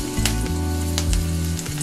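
Coconut oil crackling hot in a pan for tempering, a loud continuous sizzle with bursts of spitting pops, close up and with no talking.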